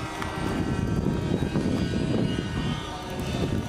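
Propeller airplane flying low over a runway at a Dawn Patrol air show, a loud continuous engine roar held close throughout with no talk.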